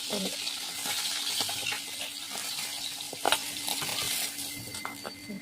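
Fish frying in a pan sizzles steadily up close, broken by scraping stirs and a few sharp metallic clinks of utensil against the pan, with no voices.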